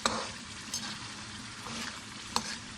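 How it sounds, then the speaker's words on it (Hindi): Meat fries in a pot with dried coriander, cumin and garam masala, a soft steady sizzle broken by a few sharp utensil clinks, close by and with no speech. "और इसको अच्छी तरह फ्राई कर लेंगे।"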